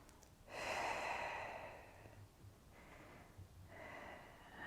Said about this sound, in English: And let's breathe a few more breaths here.